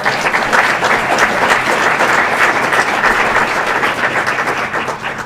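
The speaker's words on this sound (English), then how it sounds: "I believe that deserves a round of applause." Steady, loud round of applause from an audience at a Chamber of Commerce luncheon, dense and continuous throughout with no one speaking over it.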